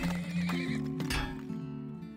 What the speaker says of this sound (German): Oh, ich brauche auch noch ein Pferd.